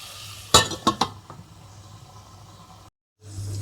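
Potatoes are stirred in a cooking pot with a spoon, giving a few sharp metallic clinks and scrapes early on, then a low simmering hush with a brief dropout.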